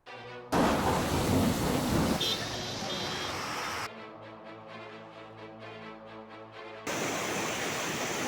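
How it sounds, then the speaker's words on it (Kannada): Heavy monsoon downpour in the Malnad hills of Chikkamagaluru pours in loud, dense roaring bursts that cut off abruptly and return, with a quieter hum between the roaring stretches. "ಕಾಫಿನಾಡು ಚಿಕ್ಕಮಗಳೂರಿನಲ್ಲಿ ಆರಿದ್ರ ಮಳೆ ತನ್ನ ಆರ್ಭಟವನ್ನ ಮುಂದುವರೆಸಿರುವಂತದ್ದು"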